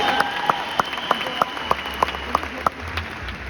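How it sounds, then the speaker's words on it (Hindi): Audience applause at a Vestige award function: a steady, rhythmic run of distinct claps about three per second, fairly close, over a faint sustained background tone. "बजा लो ताली एक बार दिल से बजा लो"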